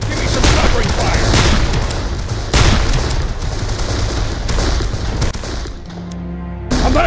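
Dense, loud covering gunfire in the Darkest of Days game, continuous rattling shots and thuds with battle noise throughout, easing slightly near the end.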